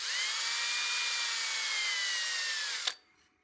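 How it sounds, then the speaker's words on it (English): Sandpaper pressed against a spinning wooden bowl on a woodturning lathe, a steady loud whirring hiss with faint squeal that stops abruptly near the end, leaving the lathe winding down. "you can always stop the lathe and just spot sand it like this"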